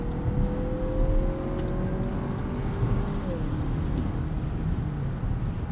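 Engine noise from a 2025 Lexus NX 350 turbo compact SUV accelerating in sport mode through an eight-speed automatic, heard from inside the cabin as a steady loud roar with a rising tone.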